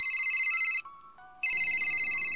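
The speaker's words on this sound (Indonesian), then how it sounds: "Telepon itu berbunyi lagi." A telephone rings loudly and close, an electronic trill in two bursts separated by a short pause, with no voices.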